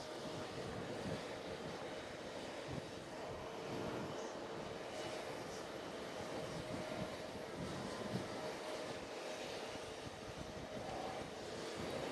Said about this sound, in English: I believe we got an Avianca coming out in front of us here. It'll be taxiing.